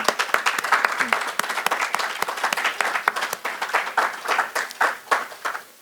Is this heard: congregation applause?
yes